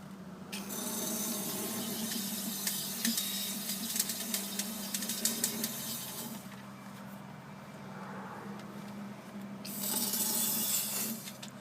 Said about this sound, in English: take the can, stick the nozzle right in the hole, and just blast away pretty much